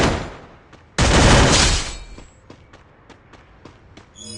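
Weapon fire in the mobile shooter game Free Fire opens with a loud, dense burst of shots lasting about a second, followed by scattered sharp single cracks and faint footstep-like taps.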